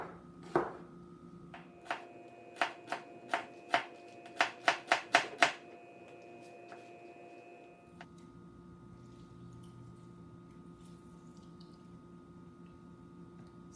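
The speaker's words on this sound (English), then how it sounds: "just be careful of your eyes when you're chopping that" Kitchen knife chopping de-seeded chili pepper on a cutting board for mango salsa: about ten crisp, close knocks that speed into a quick burst, then a quiet stretch with a faint steady hum.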